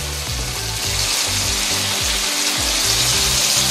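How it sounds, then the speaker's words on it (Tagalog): Tenderized beef sizzles loudly and steadily in a pan, a close, dense frying hiss with low rumbling bubbling underneath and no voices. "ngayon yung ating beef na pinalambot. So, igisa lang natin siya."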